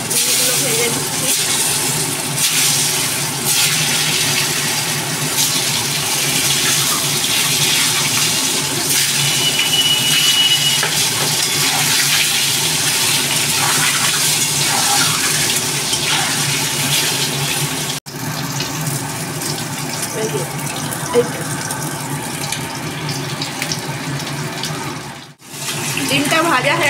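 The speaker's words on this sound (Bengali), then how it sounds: "এবার একে একে আমি করছি, ডিমগুলো ভেজে দিচ্ছি।" Eggs fry in hot oil in a home kitchen, giving a loud, steady broadband sizzle throughout with brief dips, while a voice talks over it.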